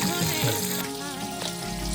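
Onions drop into hot oil already tempered with dried chilli, cumin, bay leaf, cinnamon and two cardamoms for prawn khichuri, giving a loud, close, continuous sizzle that lasts the whole short moment.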